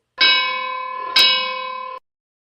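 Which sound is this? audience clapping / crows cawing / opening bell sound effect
opening bell sound effect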